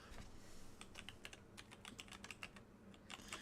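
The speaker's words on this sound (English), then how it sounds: "It could be that I'm typing too fast or wrong." Rapid, irregular clicking of keys on a computer keyboard, close up and fairly quiet, continuous with no talking.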